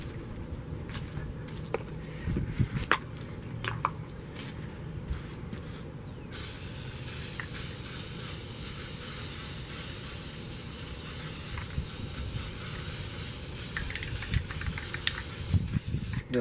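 A spray paint can hissing out black paint through a stencil in steady bursts, then a long continuous spray, close and fairly loud with no talk.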